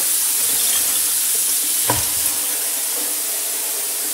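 Water from a sink tap runs steadily beneath a kitchen sink setup being prepared for siphon cleaning, a continuous close hiss with a brief clunk partway through.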